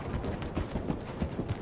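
Horse hooves clip-clop at a steady galloping rhythm in the Red Dead Redemption 2 game world, a repeated muffled thudding pattern heard fairly close with no talk over it.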